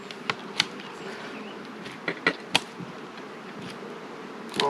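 Honeybees buzzing inside a hive being moved to heather moorland, a steady continuous hum with several sharp knocks and taps from handling the hive, fairly close.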